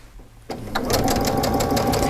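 A sewing machine starts up after a brief quiet moment and runs steadily at close range, stitching a quilt seam with a rapid, even mechanical clatter.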